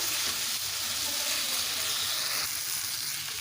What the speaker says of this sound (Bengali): এবারে দিয়ে দেবো ভেজে রাখা কপি ভালোভাবে কষে নেব